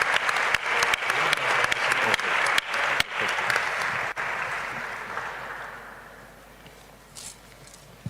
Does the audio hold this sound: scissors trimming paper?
no